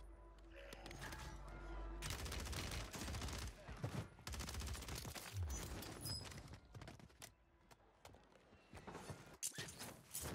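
Rapid Ram 7 assault rifle fire in Warzone, dense bursts of gunfire from the game cutting in and out over about ten seconds, very faint overall, with clattering mechanical effects between the shots.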